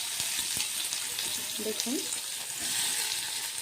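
Chopped onion sizzles steadily in hot oil with cumin seeds and a dried chilli, a close, even frying hiss with faint stirring scrapes, while someone says a word over it.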